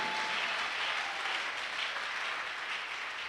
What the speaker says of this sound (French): Give the Lord a big clap of praise